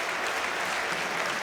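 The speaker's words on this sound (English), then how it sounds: "most of the stadium is applauding Simon Murray" A stadium crowd at a cup football match applauds steadily as injured player Simon Murray is carried off on a stretcher, a dense, even wash of clapping with no break.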